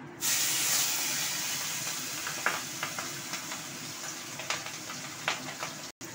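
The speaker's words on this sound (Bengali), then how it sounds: "মাছগুলো ভাজতে দিয়ে দিয়েছি।" Fish, rubbed with salt and lightly parboiled, sizzles in very hot oil in a wok, a loud steady hiss with scattered sharp spits and pops close by, and no talking.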